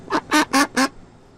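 A pet duck quacking four times in a steady, loud, nearby run of nasal calls, followed by a quiet pause, with no talking.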